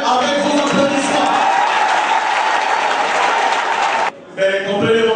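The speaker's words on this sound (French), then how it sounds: "s'il vous plaît, avec vos applaudissements" An audience at a formal event for the Senate president in Mouila applauds warmly, a dense, loud, steady wash of clapping that briefly dips near the end before resuming.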